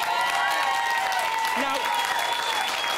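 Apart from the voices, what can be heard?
studio crowd cheering and booing after eviction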